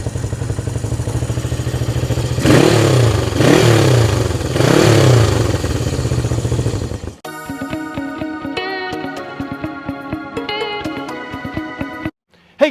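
A 1973 Honda CB360 motorcycle, earlier running on one cylinder from a spark plug fault, runs and revs three times in strong surges, then drops to a lighter, uneven idle before cutting off.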